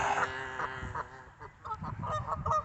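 Geese honk repeatedly at a pond, several loud nasal calls overlapping in an irregular, close chorus with no talking.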